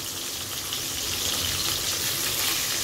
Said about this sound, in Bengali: তো দেখো বন্ধুরা, মাছ ভাজা চলছে।